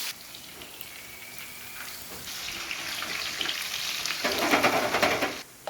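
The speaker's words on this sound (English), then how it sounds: "Let's move to fry the eggplant" Cubed, salted eggplant fries in oil for Pasta alla Norma. The sizzle starts soft, then swells into a louder, dense crackle as pieces are stirred around the pan.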